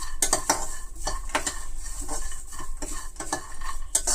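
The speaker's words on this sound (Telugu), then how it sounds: "చూడండి ఇలాగ చక్కగా అన్ని పొడి పెనంలోనే వేయించుకోవాలి." Peanuts and curry leaves are dry-roasted in a pan for a quick poha mixture, stirred with a metal spoon. Scrapes and clinks come in a steady rhythm, close and fairly loud, with only a faint sizzle underneath.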